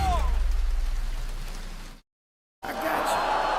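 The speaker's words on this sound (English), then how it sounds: "Of this rain?" Steady rain hisses across the whole clip, cutting out to silence for a moment before resuming just as dense.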